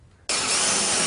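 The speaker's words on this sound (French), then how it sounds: "la première étape consiste à faire un trou à l'aide de la scie cloche" After a brief quiet moment, a power drill with a hole saw suddenly starts cutting into a false ceiling, running with a loud, steady high-pitched grinding whir.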